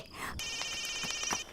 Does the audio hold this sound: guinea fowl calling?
no